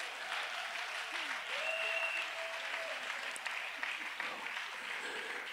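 A church congregation applauds the Lord together, steady dense clapping that holds evenly throughout with a faint murmur of voices and a brief whistle-like tone in the room.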